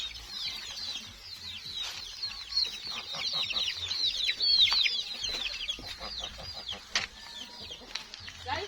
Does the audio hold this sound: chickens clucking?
yes